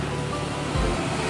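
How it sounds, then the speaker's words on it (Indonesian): Traffic on a big main road beside a small ditch or stream, heard as a steady broadband roar with a low rumbling swell as a vehicle passes, continuous and fairly close, with no talking. "kalau bikin video di sini pasti berisik karena terlalu banyaknya kendaraan yang lewat"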